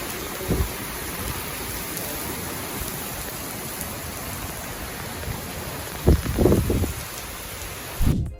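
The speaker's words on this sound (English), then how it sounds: "As you guys saw, it was downpouring rain." Heavy rain pours down steadily during a thunderstorm, a dense hiss throughout, with low rumbling thunder thuds breaking through near the start and again toward the end.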